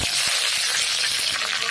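Onion and garlic frying in oil in a pan over a wood-fired stove, a steady close hiss of sizzling with a few soft knocks, no talking.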